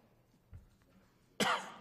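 A person coughs once at a zoning board meeting, a soft throat sound followed by a sharp, loud cough near the microphone.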